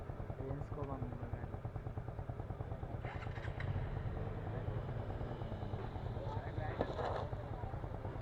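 Motorcycle engine running with a steady throbbing idle and rising revs, close and fairly loud, while people talk over it.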